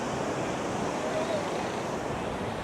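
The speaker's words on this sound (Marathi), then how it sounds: "तर समुद्राच्या लाटा बघणार आपण, बाकी काय नाही बघू शकत." Surf breaking on a beach along the Konkan coast near Harihareshwar and Srivardhan, a steady close wash of waves mixed with wind buffeting the microphone, with faint talk in the background.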